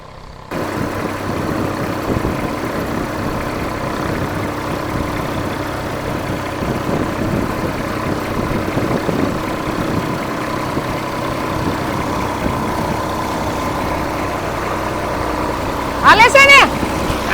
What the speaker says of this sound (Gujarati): આપણે ટ્રેક્ટર ચાલુ કરી દીધું છે